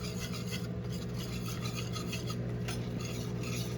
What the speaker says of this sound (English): I got a whisk. Just going to whisk away.